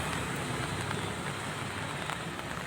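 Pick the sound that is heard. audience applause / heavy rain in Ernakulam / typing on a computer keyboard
heavy rain in Ernakulam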